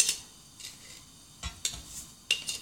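Metal spoon scraping and tapping against a pot while sugar is added on a gas stove for fresh corn pudding, a few sparse, quiet clinks separated by near silence.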